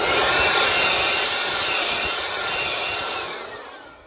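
A Hart cordless battery tool with a 1.5 amp hour battery runs steadily while cleaning a furnace blower wheel, a loud continuous high-pitched whir that holds for about three seconds before winding down.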